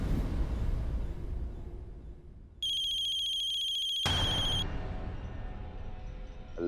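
An incoming call sets off a telephone ringtone, a bright electronic tone pattern that sounds for about two seconds over a quiet indoor background, then a short trailing note.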